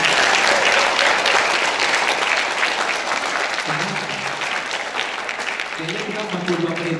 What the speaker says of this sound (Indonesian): I think we're gonna have to have applause for ourselves